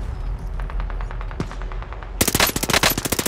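Automatic gunfire in the Call of Duty: Modern Warfare game: scattered shots under a low rumble, then a dense, loud burst of rapid fire in the final second.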